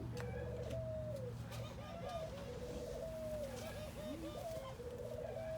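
Doves cooing, a flock of mostly white doves kept as birds under testing, with repeated soft coos overlapping over steady low background noise, fairly faint overall.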